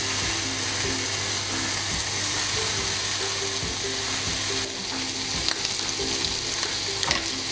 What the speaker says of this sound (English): Let's cook the bacon.